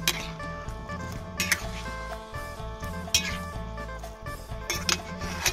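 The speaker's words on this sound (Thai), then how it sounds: "แล้วก็จะ คนไปคนมาให้เขาน้ำตาลละลายนะคะ" Sugar syrup stirred in a pot with pandan leaves, a spoon clinking and scraping against the metal in a loose repeating rhythm over a low steady hum, with a few sharper clinks standing out.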